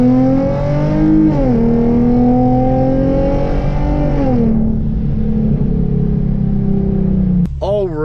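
Hyundai Genesis Coupe at full throttle from first gear on a 0-60 run, loud close engine rising in pitch, one upshift dip, then climbing again until a lift off near the end.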